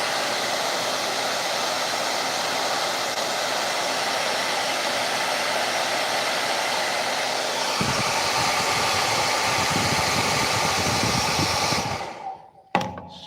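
A heat gun blows hot air onto a ring and knife project, a loud, steady whooshing roar that runs continuously for about twelve seconds before cutting off abruptly.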